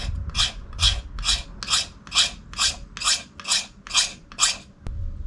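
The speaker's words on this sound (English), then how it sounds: "I'll just create some really wide, thin shavings" A sharp knife shaves thin, wide curls from a stick of fatwood in about ten evenly spaced rasping strokes, close and crisp with no talk.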